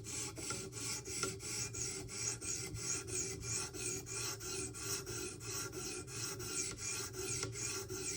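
Steady rhythmic rasping strokes of a Spyderco Para 3 folding knife with a 15V steel blade drawn across a sharpening stone, repeating evenly about twice per second, close and alone.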